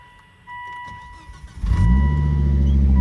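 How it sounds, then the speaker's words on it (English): A 2005 Volvo S60 R with a six-speed manual gearbox and a worn clutch starts up close by: a whirring starter crank, then the engine catches with a rising roar and settles into a loud, steady idle, with no one talking. "Let me just start it up."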